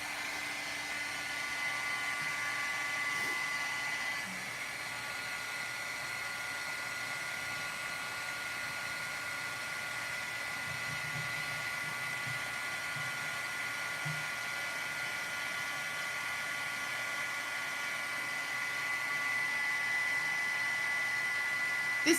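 A heat embossing tool whirs steadily as a card is embossed, a constant high-pitched electric blower hum like a small hair dryer, running alone for a long stretch.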